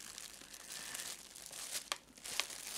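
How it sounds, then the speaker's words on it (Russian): A small gift bag filled with synthetic stuffing rustles and crinkles up close, soft irregular scratching with a few sharper crackles toward the end. "Слышите, шуршит."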